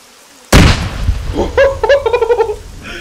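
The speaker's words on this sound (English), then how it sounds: "somebody's threw a grenade up." Grenade explosion in the video game Arma 3: one sharp, loud blast that rolls off into a short rumble, followed by a person laughing.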